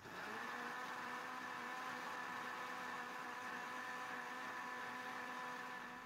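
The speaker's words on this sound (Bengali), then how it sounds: "ব্লেন্ড করে নিচ্ছি, খুব স্মুথ করে নিচ্ছি ব্লেন্ড করে" A kitchen blender whirs steadily, blending banana pieces with 100 ml of cold milk, a continuous even motor drone from start to finish, quiet and alone with no talking.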